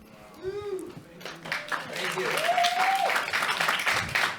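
Audience members at a county planning commission meeting break into clapping after a motion carries, rising and holding steady beneath a voice speaking over the room.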